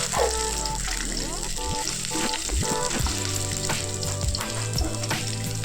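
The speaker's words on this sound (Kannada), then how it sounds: "ಬೆಳ್ಳುಳ್ಳಿ ಹಾಕ್ಕೊಂಡಿದ್ದೀನಿ ಫಸ್ಟು ಸ್ವಲ್ಪ ಲೈಟಾಗಿ ಫ್ರೈ ಆಗೋವರೆಗೂ ಫ್ರೈ ಮಾಡ್ಕೋಣ" Garlic fries lightly in a pan for a paneer gravy, giving a close, continuous sizzle with stirring clatter, heard beneath prominent tonal sounds that resemble music or a voice.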